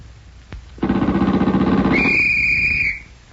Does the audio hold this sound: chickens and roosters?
no